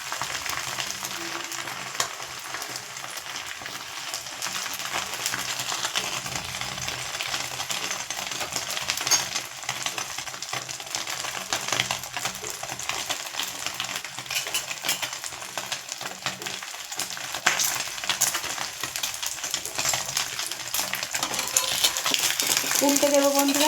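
Bread slices coated in beaten egg fry in a pan, giving a steady soft sizzle with light scraping and clinking of a utensil throughout, no talking.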